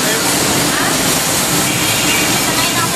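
An LRT train rumbles past overhead on an elevated track, heard from the street below as a steady, loud roar with rail clatter and hiss that fills the whole stretch.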